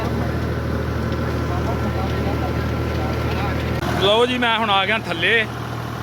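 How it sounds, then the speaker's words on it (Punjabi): An old small tractor engine drives a borewell pump with a steady, continuous drone, fairly close and constant throughout, while someone talks over it toward the end. "ਆਟੋਮੈਟਿਕ ਜਿਹੜਾ ਟਰੈਕਟਰ ਚੱਲਣ ਡਿਆ ਵਾ ਉਹਦੇ ਨਾਲ ਹੀ ਉਹ ਬੋਰ ਚੱਲਦਾ ਵਾ"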